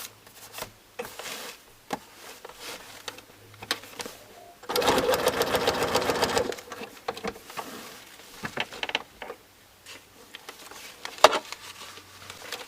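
A sewing machine stitching fabric with paper pieces hums in one steady, rapid burst of about two seconds midway, surrounded by quieter clicks and handling noises.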